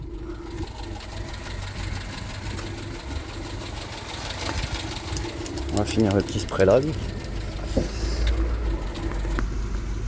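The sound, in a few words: car engine idling while warming up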